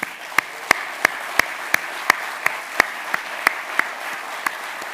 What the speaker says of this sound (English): maybe a big round of applause for everyone's amazing work today